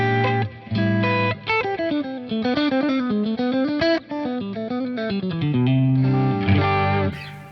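An electric guitar through a JHS Crimson fuzz pedal, a Big Muff-style fuzz, plays a sustained, saturated melodic line with bending notes, thick and buzzy, continuous for several seconds with a short pause.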